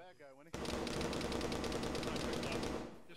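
Sustained automatic gunfire from a ShackTac Arma squad battle, a dense rapid stream of loud shots starting abruptly after a brief moment of talk and running nearly three seconds.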